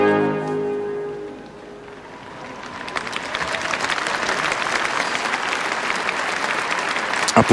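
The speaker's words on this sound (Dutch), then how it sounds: "Applaus, omdat de plechtigheid op de Dam verder gaat" Applause from a large outdoor crowd at the Dodenherdenking remembrance ceremony on the Dam in Amsterdam, 2010, rising after a quiet stretch and holding as steady, dense clapping for several seconds.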